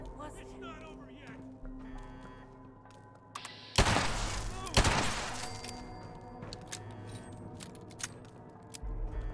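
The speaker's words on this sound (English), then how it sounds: "As loud as this gun is" Gunfire from a weapon in the video game Fallout 76: two loud bursts about a second apart, followed by scattered shots and impacts amid game sounds and people talking.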